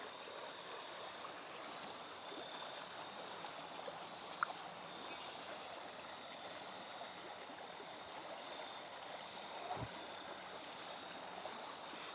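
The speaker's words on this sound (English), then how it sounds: "Now you can hear it. Some white water action" A river near an old farm field rushes with white water in a steady, broadband wash heard from a distance. It stays fairly faint and continuous, with a single small click partway through.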